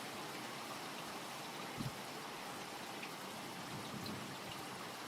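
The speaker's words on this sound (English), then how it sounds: "It's raining." Steady rain falls on an empty road at night, a constant soft hiss with no voices over it.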